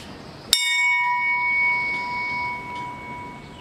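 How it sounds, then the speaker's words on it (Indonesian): A single loud funeral bell strike rings out in a museum, its clear metallic tone lingering and slowly fading over several seconds. "lonceng ini dibunyikan mengiringi kepergian jenazah sampai ke liang lahat."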